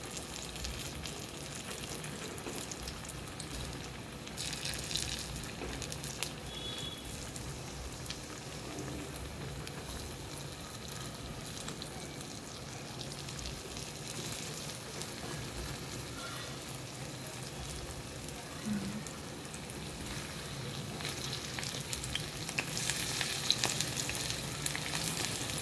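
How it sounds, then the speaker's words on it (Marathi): Medu vada deep-frying in hot oil until golden on both sides, a steady dense sizzle and crackle running throughout, close and fairly loud, with faint clinks partway through. "दोन्ही साईडला मस्त खरपूस व्यवस्थित गोल्डन कलर येऊपर्यंत तळू द्यायचं."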